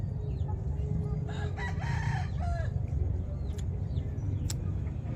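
A rooster crows once, fairly near, over a steady low outdoor rumble, followed by a few scattered clucks and chirps; the chicken is sick.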